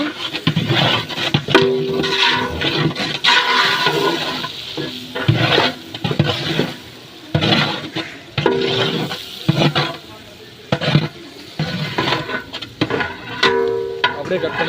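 Onions fry in a pan until golden for Madurai-style mutton chukka, with intermittent stirring scrapes and a steady sizzle; the sound pauses and resumes in bursts, close and fairly loud, with some background voices.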